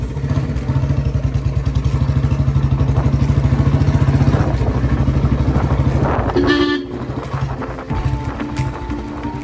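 A Royal Enfield Bullet motorcycle engine runs loud and rough with a steady throbbing idle, then stutters and shifts pitch partway through, with brief horn-like tones near the end.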